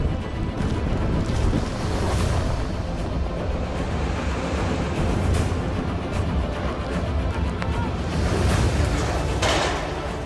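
Stormy wind and crashing waves from Cyclone Yaas on the Odisha and Bengal coast rumble steadily, gusts swelling and easing over a constant roar of churning water.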